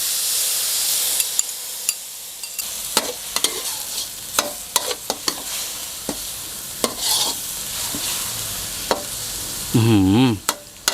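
Pork belly stir-fries in a hot pan with a spatula scraping and clanking at irregular intervals, then a mixed shrimp paste and sugar sauce goes in, sending up a sudden loud sizzle near the end.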